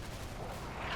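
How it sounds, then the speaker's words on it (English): Sporadic artillery fire in the Combat Mission: Battle for Normandy video game, a dense, continuous rumbling roar of shelling, steady and loud across the whole short moment with no distinct separate blasts. "Some more sporadic artillery coming down"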